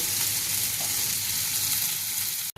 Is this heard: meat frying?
yes